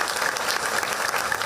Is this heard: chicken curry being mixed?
no